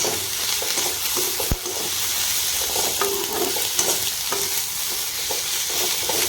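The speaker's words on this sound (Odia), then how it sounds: "ଏବେ ଆମେ ଏଥିରେ ରସୁଣ, କଞ୍ଚା ଲଙ୍କା, ଶୁଖିଲା ଲଙ୍କା, ଅଦା ଆଉ ଟମାଟୋ ଦେଇକି ଫ୍ରାଏ କରିବା।" Onion, garlic, green and dry chillies, ginger and tomato fry in a pan for pointed gourd curry, with a constant close sizzle broken by scraping stirs and one sharp knock of the spatula.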